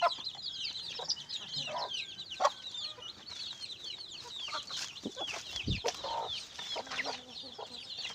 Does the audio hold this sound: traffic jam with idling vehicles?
no